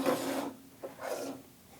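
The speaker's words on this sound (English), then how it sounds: "I'm just going to lightly sand my stenciled area just to distress it a little bit." Soft, close scratchy rasping strokes, a couple of back-and-forth passes of a sanding block lightly distressing a stenciled painted surface, with no talking.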